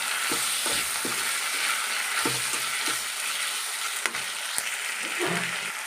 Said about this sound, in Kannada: ಟೊಮೆಟೋನ ಹಾಕ್ಕೊಂಡು ಈಗ ಚೆನ್ನಾಗಿ ತಿರುಗಿಸ್ತೀನಿ